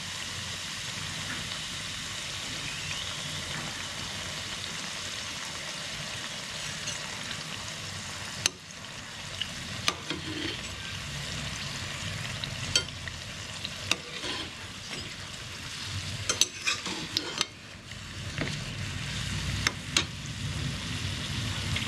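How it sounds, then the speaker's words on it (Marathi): Karanji deep-fry in ghee with a continuous bubbling sizzle, broken now and then by sharp clicks and scrapes as they are stirred and turned. "गोल्डन कलर येईपर्यंत तळून घ्यायचे."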